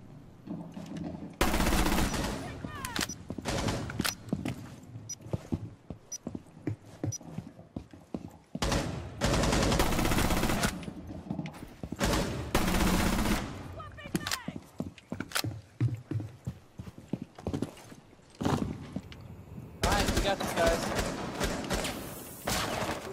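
A light machine gun fires in Rainbow Six Siege, in several loud, sustained bursts with short gaps between them. A player talks between and over the gunfire.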